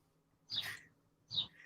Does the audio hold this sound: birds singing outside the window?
yes